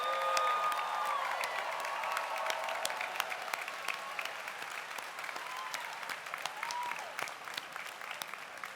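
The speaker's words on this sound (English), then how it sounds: "Let's give them a big round of applause." A college commencement audience gives sustained applause to rising alumni, a steady, fairly distant roll of many hands clapping with faint cheers mixed in.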